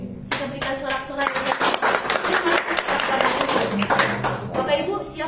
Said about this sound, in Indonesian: Kita berikan sorak-sorai.